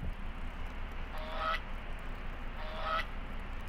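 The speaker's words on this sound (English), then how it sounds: "Hey, goose." A goose honks twice in a video game, each call a short nasal blast about a second and a half apart, standing out over a steady low background hum.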